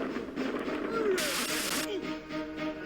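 Fire magic attack in the 3DO game Dragon Tycoon Edge, a loud crackling burst of game sound effects swelling mid-clip over steady background music, with tonal swooshes around it.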